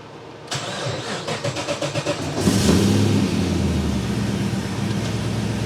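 A hot rod car with air suspension cranks over with a rapid, pulsing starter rhythm, catches and fires, then settles into a loud, steady idle close by, with no talk.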